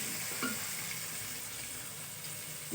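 Potatoes fry in oil with ajwain, kalonji and salt, making a continuous close-up sizzle with a light stir or clink near the start and no voices.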